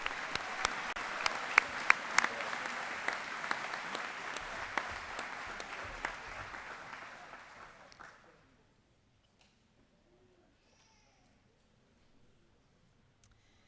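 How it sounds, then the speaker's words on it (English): Audience applause at a Bridgton Academy commencement ceremony for the student award winners, a dense steady clapping that fills a large hall for about eight seconds, then stops abruptly into near silence. "Please join me in one more round of applause for all our student award winners."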